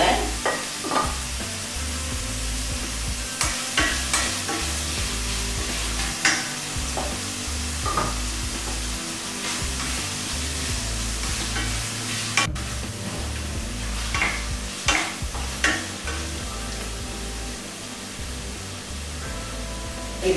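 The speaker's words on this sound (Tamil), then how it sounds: "ஆனியனோட சேர்த்து போட்டு தக்காளி வதக்கி இதுக்கு போதுமானது." Tomatoes sautéing with onion and salt in a pan give a steady close sizzle, with scraping stir strokes recurring throughout and no talking.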